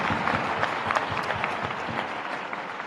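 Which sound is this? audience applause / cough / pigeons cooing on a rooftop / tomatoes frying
audience applause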